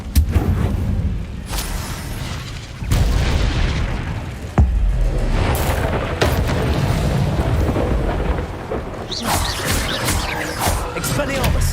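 Incendio fire spell cast in the game Hogwarts Legacy, heard as loud, booming blasts with a sustained roaring rumble that runs through the whole stretch, with sharper bursts near the start and middle.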